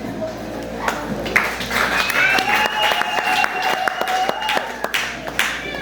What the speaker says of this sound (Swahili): Pigia Bramwell makofi mazuri